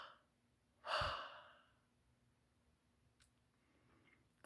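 A single person's breath, one audible sigh-like exhale heard close and alone in an otherwise quiet room, fading out slowly afterward.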